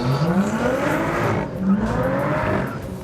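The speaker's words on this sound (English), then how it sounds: "But the most audible change is the sports exhaust system, as you can hear here." A Lotus Evora S sports exhaust revs loud and close on the Lotus test track near Barcelona, climbing through the gears in two rising pulls with a short dip between, under steady tyre and road roar.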